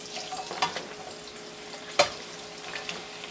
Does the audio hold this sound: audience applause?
no